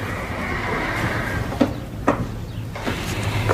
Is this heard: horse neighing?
yes